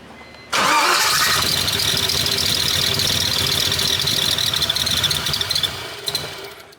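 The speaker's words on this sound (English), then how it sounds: "The fuel pump makes a lot of noise." An LS-swapped BMW E46 starts abruptly and then runs loudly and steadily. A high-pitched whine from the fuel pump, running at 80 psi, sits over the engine noise before it tapers off toward the end. No one speaks.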